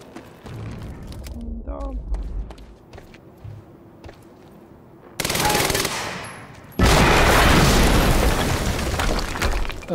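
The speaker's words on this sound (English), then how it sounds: "HQ, we just heard an explosion near the harvesting perimeter." Gunfire and explosions from the video game Quantum Break: a loud sustained burst of shooting or blasts erupts midway, then a second, louder continuous barrage runs to the end, with quieter game sounds before it and no talk.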